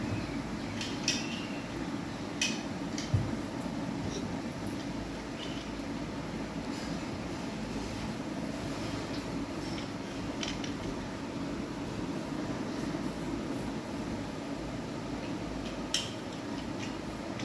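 A child's toy train runs along its track with a low, continuous rolling rumble. Small clicks and light rattles are scattered through it, faint and near.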